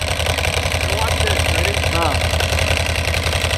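An old-school Ducati motorcycle engine idling nearby, a steady, loud, lumpy rumble with a rhythmic pulse that holds for the whole stretch.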